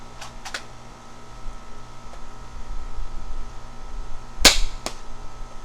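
An Adventure Force Deuce Pro dart blaster fires with its barrel removed, giving a few sharp, close clicks and pops, one noticeably louder burst near the end, over a faint room hiss.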